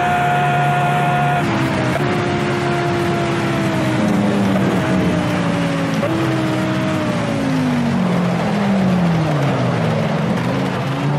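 Racing car engines in Project CARS rev loudly, their pitch climbing repeatedly through gears as shifts break the tone, forming a continuous, close, roaring drive throughout.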